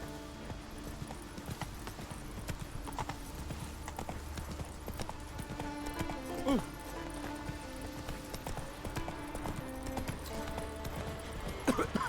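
Horse hooves clip-clop in The Witcher 3, a quick, steady rhythm of hoof strikes layered over game ambience and music, while someone talks over the riding now and then.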